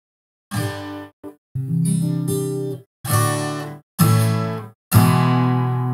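Several plucked acoustic guitar chords and notes, picked up only by a vocal microphone through a mixer, ring out one after another with brief silences between, sounding slightly distant and thin.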